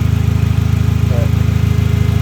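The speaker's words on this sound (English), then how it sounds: "It's going to be a little noisy since the exhaust is kind of not on the car either." A car engine idles with its exhaust removed, giving a loud, raw, rapidly pulsing rumble that throbs evenly and close by without pause.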